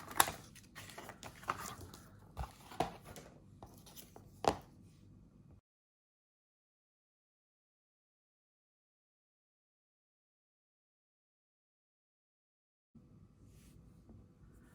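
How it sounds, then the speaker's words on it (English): Scissors cutting through cardboard for a craft silhouette: a quick run of close, crisp snips and rustles for several seconds, then silence, then a soft low shuffle near the end. "Now finish cutting that out with scissors."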